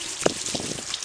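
Water poured over a freshly repotted black pine bonsai, a short burst of splashing and dripping into soil and grains, close and fairly soft, no voices.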